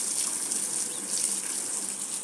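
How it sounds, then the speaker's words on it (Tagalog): Water gushes steadily onto garden soil in pots being readied for planting, a close, continuous splashing hiss. "Lagyan natin ng tubig para hindi tayo mahirapan mamaya magbungkal."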